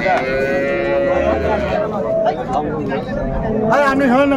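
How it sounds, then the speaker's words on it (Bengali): Dairy cows and calves at a rural cattle market in Dinajpur lowing loudly and repeatedly, with crowd chatter and people talking throughout. "বেশ সুন্দর গাভী বাছুর গরুগুলো কালেকশন করছে তোতা ভাই"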